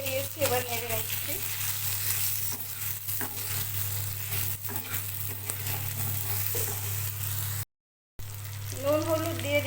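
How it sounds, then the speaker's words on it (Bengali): Mango pieces and sugar sizzle in a hot pan while a spoon stirs them, a continuous close frying hiss with soft scraping and a steady low hum beneath, a brief dropout near the end. "আমের উপর চিনি দিয়ে দিয়েছি, এবার নেড়ে নিচ্ছি।"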